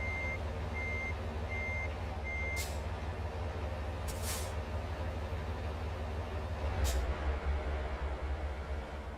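In American Truck Simulator, a truck reverses while its tandems slide back, with repeated backup beeps over a constant engine rumble and several sharp hissing air-brake bursts.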